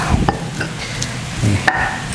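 A spoon stirring karedok ingredients in a stone mortar, with soft scraping and wet mixing sounds and a few sharper knocks, close and steady.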